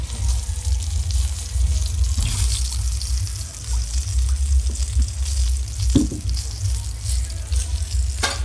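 Pomfret fish, coated in rice flour and semolina, frying in oil in a Konkani restaurant kitchen: a continuous loud sizzle over a low rumble, with a few sharper spatters and clatters.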